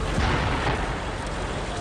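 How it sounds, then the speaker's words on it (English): Archival footage of an explosion at the World Trade Center on 9/11 comes through as a loud, continuous rumbling blast of broadband noise with no gaps, heavily distorted and saturated, and no clear speech. "Big explosion."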